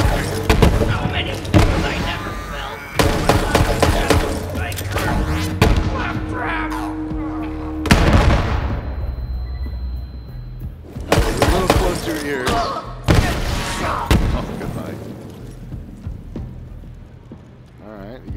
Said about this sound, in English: Homing rocket.